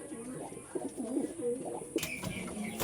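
Racing pigeons cooing inside a loft, several soft, rolling coos overlapping close by, then a sharper clatter of movement near the end.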